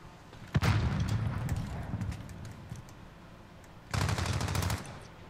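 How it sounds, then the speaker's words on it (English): Automatic gunfire in the video game Modern Warfare comes in two loud, dense bursts, one long rattling stretch early and a shorter one near the end, with quieter game ambience between them. "He's shooting at me"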